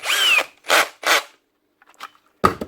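A Hikoki cordless drill with a weak, slipping clutch runs in drill mode, giving three short close bursts of whirring motor noise, then faint clicks and a final sharp burst.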